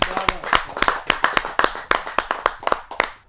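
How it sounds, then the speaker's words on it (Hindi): An audience at a Hindi kavi sammelan claps to welcome a poet to the stage. Sharp, distinct handclaps come in a quick, roughly rhythmic series, close and fairly loud. "मैं बिटिया प्रियंका राय को जोरदार ताली के साथ आमंत्रित करता हूं।"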